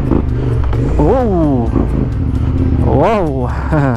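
A Yamaha Tenere 700 adventure motorcycle on an off-road test ride, its engine droning steadily and swelling through two clear rev rises, loud and close, with a rider's voice over it.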